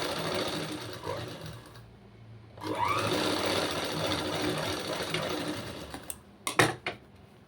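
A sewing machine joins the back and front pieces of a garment, its motor whirring in a long steady run after a shorter burst, ending with a few sharp clicks and knocks.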